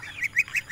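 Domestic ducks calling in a rural farm pen, a few short nasal bursts repeating at a quick uneven rhythm, close and fairly clear with no talk over them.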